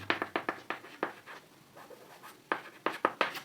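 Pen writing on paper for a class 10 maths exercise: close, quiet strokes in quick scratchy bursts, a short pause midway, then another rapid run of marks, with no talking.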